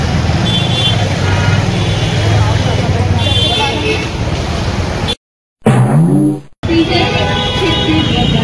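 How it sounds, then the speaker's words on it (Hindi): Busy street traffic near Darbhanga Tower, with cars, trucks and buses droning and honking steadily under a voice, interrupted briefly by a gap and a passing vehicle. "बाकी गाड़ी का आवाज़ आप लोग सुन रहे होंगे"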